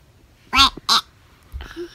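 A voice imitates a duck with two quick, nasal quacks, followed by a softer, fainter murmur.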